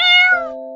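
A cartoon kitten gives a single short, loud meow, close and alone, falling in pitch as it fades.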